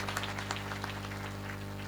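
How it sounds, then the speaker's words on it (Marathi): An audience claps to welcome a mridang player at an Akhand Harinam Saptah in Nilwandi: a steady, moderately distant patter of applause over a constant low hum. "त्यांना टाळ्या वाजवून स्वागत करा"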